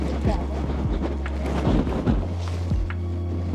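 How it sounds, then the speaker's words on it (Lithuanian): Strong coastal wind in southern Norway buffets the microphone in a loud, continuous low rumble with gusty surges throughout. "Šiandien labai vėjuota"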